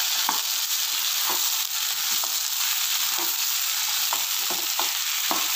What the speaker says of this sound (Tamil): கூடயே இருந்து இதை வதக்கி இப்படி செய்யணும்